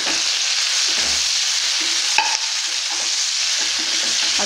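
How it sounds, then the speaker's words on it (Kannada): Chopped tomato fries in a pan for horse gram sprout sambar, a constant close sizzle with a single brief clink of a spoon partway through. "ಇದನ್ನು ಸ್ವಲ್ಪ ಫ್ರೈ ಮಾಡ್ಕೊಳ್ಳೋಣ"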